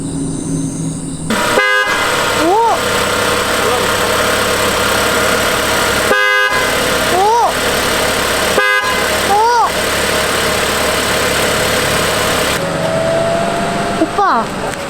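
A Chevrolet Trailblazer's newly replaced dual horn honks several times in short and longer blasts, loud and close, with a dual-tone pitch, over a running engine and background noise.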